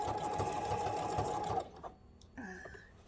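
A sewing machine stitches a quilt in a quick steady run of mechanical clatter and motor hum for about a second and a half, then stops, leaving quiet handling sounds.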